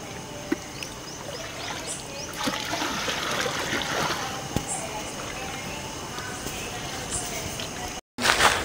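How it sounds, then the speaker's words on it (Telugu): Water in a drum on a farm is churned by pouring it with a bucket up and down, giving continuous sloshing and splashing with occasional sharper splashes, while a person talks over it. "ఇది మీరు వాటర్లో పోసుకొని ఒక 5-6 సార్లు బకెట్తో కిందికి పైకి వేయాలి"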